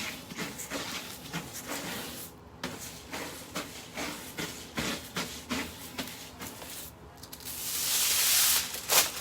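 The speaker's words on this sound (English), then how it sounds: "I'm going to take my scrub brush." A scrub brush rubs over a foil-finished board in a painting studio, a rapid series of soft scratchy strokes in uneven rhythm, close and fairly quiet, ending in a brief brighter hiss.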